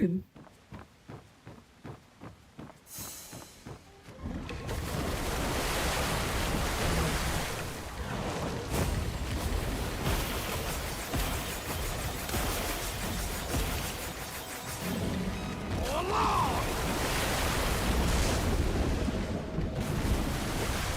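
A character splashes into water in the online game Where Winds Meet, a burst of broad rushing water noise that swells and churns for most of the clip after a short rhythmic stretch at the start.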